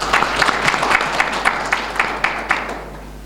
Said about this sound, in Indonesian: Bisa kita kasih aplaus untuk anak-anak kita.